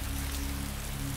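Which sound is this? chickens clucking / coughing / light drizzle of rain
light drizzle of rain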